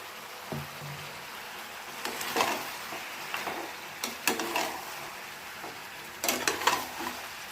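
Mutton pieces frying in a pan as ginger, chili and onion paste go in, giving a soft steady sizzle broken by several louder stirring scrapes and clatters of utensil on pan, with no talking.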